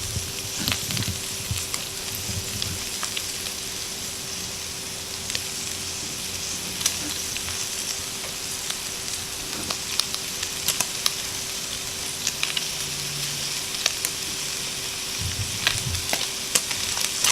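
Beef frying in a pan with red onions just added, giving a steady close sizzle with scattered crackles and the occasional scrape of stirring, and no voices.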